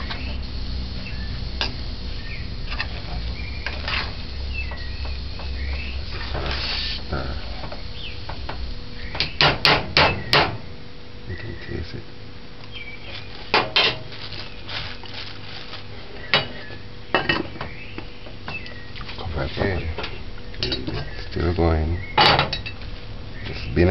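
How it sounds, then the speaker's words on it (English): Spoon clinking and scraping against a pot of Jamaican rice and peas during stirring, a series of light metallic taps and scrapes in irregular bursts over a quiet kitchen background. "You want to stir it."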